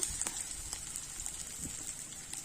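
Pieces of fish frying in hot oil, a soft continuous sizzle with scattered small pops and crackles, close but quiet and without any talking.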